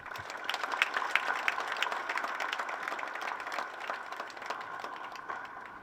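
Audience at the Kenya trade expo in Nairobi breaking into sustained applause, a dense wash of many hands clapping steadily and fairly close for the whole stretch, with no talk over it.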